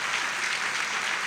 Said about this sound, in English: Yeah, you can cheer.